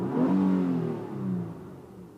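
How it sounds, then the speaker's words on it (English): A 2010 Nissan Maxima S with a 3.5-liter engine revving, two short rising-and-falling revs heard close and moderately loud, the first stronger than the second, with no talking. "Let me just rev it up a little bit."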